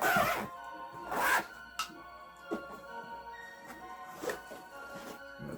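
Zipper on a Mooroer Steam Deck accessory case being worked in several quick rasping pulls, close and fairly soft, separated by brief pauses.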